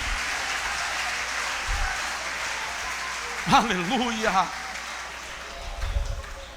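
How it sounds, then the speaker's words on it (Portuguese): Church congregation applauding steadily, a broad wash of clapping with a shouted voice rising over it partway through. "Se você pode, aplauda"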